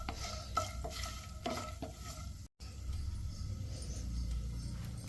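Whole spices such as pepper and flower spice fry in a pan for chicken biryani, with a steady sizzle broken by stirring scrapes and clinks, close and alone, with a brief dropout midway.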